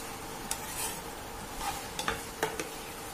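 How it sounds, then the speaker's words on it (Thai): Macaroni with sausage sauce stir-fried in a pan, a steady wet sizzle under repeated scraping strokes and a few clinks of the spatula, close and moderately quiet, no voices. "เราจะผัดสักพักหนึ่งค่ะ"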